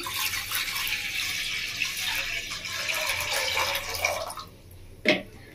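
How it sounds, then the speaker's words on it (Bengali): Water poured from a vessel into a kadai set on a gas stove for making Bengali mixed-veg dal fry, a steady close splashing pour lasting several seconds before tapering off, ending with a single sharp knock. "তো কড়াতে প্রথমে আমি জল দিয়ে দেবো।"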